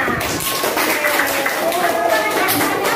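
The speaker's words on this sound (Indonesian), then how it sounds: "Ayo kita beri tepuk tangan untuk kita semuanya." A class of schoolchildren claps together in a classroom, a dense, steady patter of many hands with children's voices mixed in throughout.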